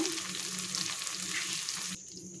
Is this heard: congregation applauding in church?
no